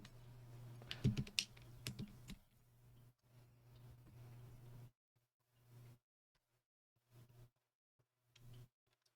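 Typing on a GEIM65 keyboard with HMX Macchiato switches, with a dense run of close clicks and clacks followed by a few short scattered bursts with quiet gaps between them.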